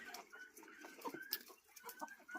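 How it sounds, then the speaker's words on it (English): Faint, scattered clucks and short calls from chickens nearby, soft and irregular against quiet outdoor air. "I come outside to let the chickens out"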